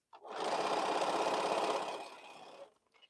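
A sewing machine stitches quilt border units in one loud, continuous run of rapid needle strokes lasting about two seconds, then slows and stops, followed by a brief faint click.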